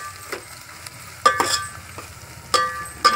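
Chillies, curry leaves, onion and cumin frying in hot oil, a soft steady sizzle broken by a few sharp clinks and scrapes of a stirring spoon against the pan.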